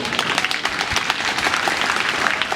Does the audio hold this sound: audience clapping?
yes